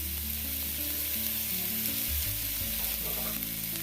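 Finely chopped carrot and cabbage stir-fry over a high flame for veg fried rice, producing a dense, steady hiss of frying under a low continuous hum, close and even, with no distinct stirring strokes or speech.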